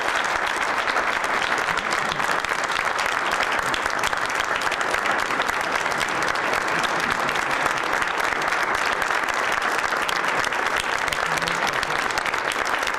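A town meeting crowd in Bristol's Holley Hall gives a long round of applause, thick sustained clapping from many hands filling the room at even loudness for over ten seconds.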